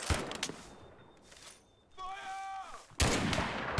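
Gunfire in the classic-mode war game Mud and Blood: loud bursts of shots at the start and the end, with a quieter stretch and a whistling tonal effect in between.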